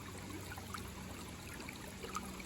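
Water from a stream trickling steadily as it is filtered into a water bottle, a soft continuous burble with faint drips, quiet and close, no talking.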